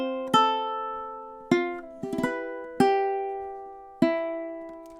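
High G ukulele picking the opening of a song, five bright plucked notes and a quick double pluck, each ringing and decaying alone at a slow, even pace.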